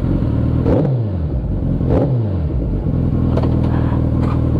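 A Suzuki Hayabusa motorcycle engine revs up close, with two sharp throttle blips rising and falling over a loud, steady idle rumble.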